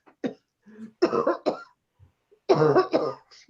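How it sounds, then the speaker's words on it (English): Several harsh coughs and throat-clearing bursts come in quick clusters, close and fairly loud, separated by short silences. "Uh-oh, coughing."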